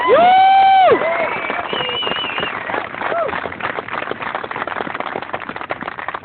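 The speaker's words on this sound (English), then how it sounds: "Let's give them a round of applause." A crowd at a political event in Spokane Valley applauds and cheers after a brief tonal sound, the clapping dense and sustained with voices mixed in throughout.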